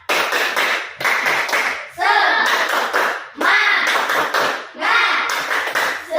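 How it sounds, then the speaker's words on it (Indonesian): A school class doing a rhythmic spirit clap, bursts of group clapping in a patterned beat broken by short gaps, with children's voices chanting along amid the claps. "Tepuk semangat terlebih dahulu."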